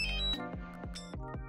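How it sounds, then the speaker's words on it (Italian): A DJI Mavic Mini remote controller chirps as it powers on: a sustained electronic tone followed by a quick run of short, clear beeps, close and alone with no talking. "Emette il beep"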